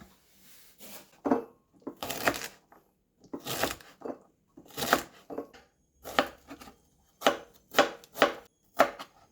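Knife chopping ingredients on a board for Thai stir-fried basil pork, bursts of quick, close, rhythmic chops separated by short pauses, with no talking.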